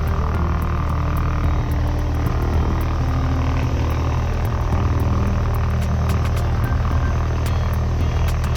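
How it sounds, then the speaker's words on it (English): A Cessna 172's Lycoming piston engine runs steadily as the plane prepares for flight, a loud, continuous propeller drone heard close up with a rhythmic pulsing throughout. "The distinctive sound of the Lycoming engine roars to life as the plane prepares for flight."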